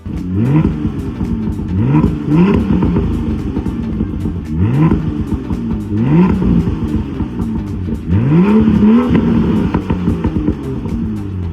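A BMW M2 coupe's M Performance sports exhaust revving repeatedly, each rev climbing sharply in pitch then dropping back to a rumbling idle, close and loud.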